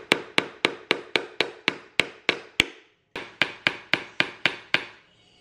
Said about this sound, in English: Okay, I finished hammering.